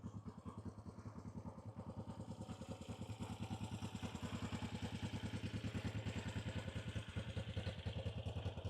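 A Honda Black Bomber motorcycle engine runs nearby with a rapid, even pulsing beat and mechanical clatter, growing slightly louder and fuller as it goes on, with no talking over it.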